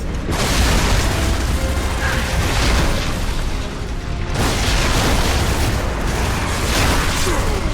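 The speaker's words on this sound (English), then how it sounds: "That thing's spewing bombs." Repeated bomb blasts and booming explosions from Gears of War 3 gameplay, a dense, loud, continuous rumble of detonations with brief lulls, mechanical clatter mixed in.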